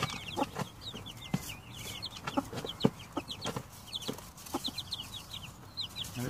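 A flock of chickens with a young rooster clucks on a homestead farm, giving repeated soft clucks and short chirpy calls close by, spread irregularly across the whole stretch with no talking.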